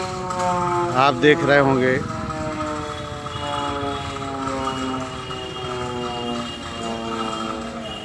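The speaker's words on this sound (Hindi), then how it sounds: "साइलेंसर हॉर्न जो लगाए जाते हैं वो बज गया है" During a school mock drill, a steady, wailing emergency siren sounds with sustained tones, moderately distant, while someone talks over it and a louder warbling burst comes early on.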